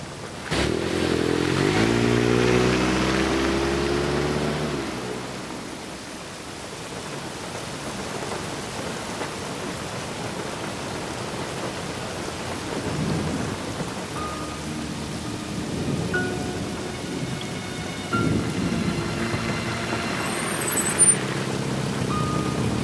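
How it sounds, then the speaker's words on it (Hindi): Rain falls outside in a steady, broadband hiss that runs unbroken from start to finish, with no voices over it. "लेकिन बाहर बारिश हो रही है।"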